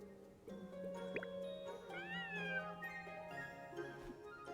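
A cat in the video game Starsand Island lets out a short, soft meow over quiet background game music and small dripping plinks, with no talking.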